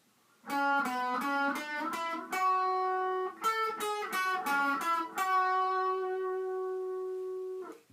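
Guitar playing a battle theme from Pokemon Omega Ruby/Alpha Sapphire, a quick run of picked notes followed by a second phrase that ends on a long ringing sustained note, close and clean, no talk.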